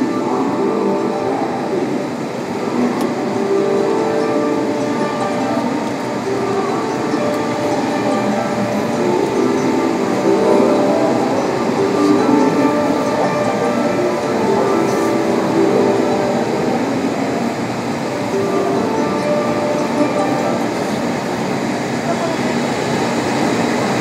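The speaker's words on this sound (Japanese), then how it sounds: "3番乗り場から普通列車小松行き発車いたします。" A JR West 521 series electric train with a Toshiba IGBT-VVVF inverter runs between Kanazawa and Matto. The steady onboard rolling rumble carries a layered electric motor hum that stays loud and continuous throughout.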